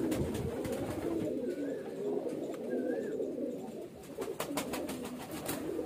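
A male highflyer pigeon and others coo in a soft, continuous rumbling drone, close but quiet, with a few faint higher chirps and light clicks over it.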